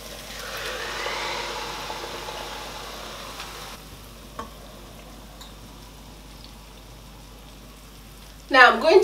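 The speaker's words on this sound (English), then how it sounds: "Now I'm going to allow that to fry for a few seconds." Onions and blended pepper mixture fry in a pan, a soft steady sizzle at low level that continues for several seconds before a brief louder clatter near the end.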